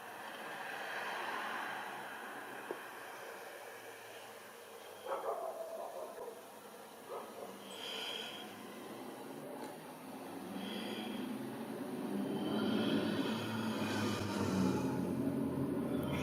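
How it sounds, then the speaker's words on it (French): Motorcycles pass nearby outdoors, a steady engine drone that swells louder toward the end, with brief knocks and a few faint higher tones over a constant background hum. "Désolé pour les bruits des motos."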